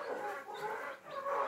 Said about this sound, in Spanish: Qué hermoso se ve los pollitos